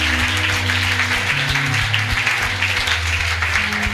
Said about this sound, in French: Can you clap for Est-ce Jesus?